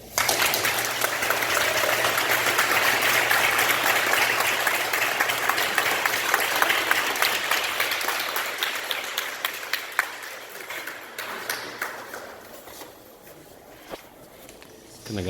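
An audience applauds after a poetry reading: a full burst of crowd clapping that gradually thins into scattered individual claps and fades out.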